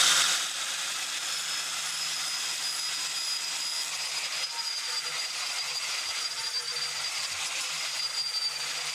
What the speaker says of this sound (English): That's us done with the angle grinder.